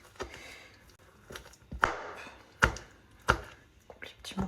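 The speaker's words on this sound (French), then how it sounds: "Je vais bien couper ça." A knife cuts through cooked food on a board, making several sharp chopping knocks at an uneven pace, fairly close and moderately loud.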